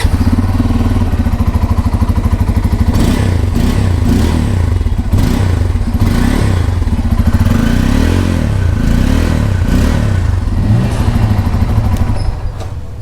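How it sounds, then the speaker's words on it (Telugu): Exhaust of a 2024 Bajaj Pulsar N250 motorcycle with twin-outlet exhaust, idling with a steady pulsing thrum, then blipped through several sharp revs that rise and fall before settling back to idle, loud and close. "బైక్ ఎగ్జాస్ట్ సౌండ్ అయితే వినిపిస్తాం మీకు ఇప్పుడు"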